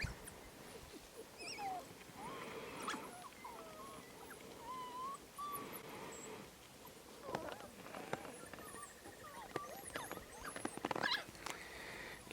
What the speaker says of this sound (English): maybe it's attracted to the sound of the dogs